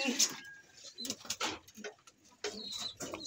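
Pigeons coo in soft, throaty bursts close by, several calls overlapping with scattered rustles and faint chirps.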